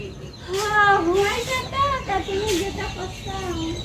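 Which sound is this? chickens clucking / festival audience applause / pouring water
chickens clucking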